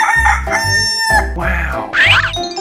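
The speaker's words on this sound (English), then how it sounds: "Chicken." A cartoon chicken crows among bouncy animated sound effects, with a bright rising call over a thumping synthetic beat, loud and close.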